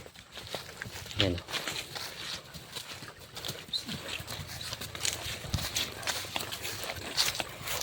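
A working farm horse used for coconut harvesting in Tayabas moves at a quick pace, its hooves giving faint, uneven clip-clops under rustling outdoor noise and voices.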